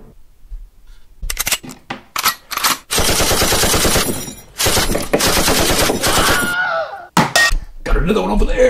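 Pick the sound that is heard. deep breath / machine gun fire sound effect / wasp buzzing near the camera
machine gun fire sound effect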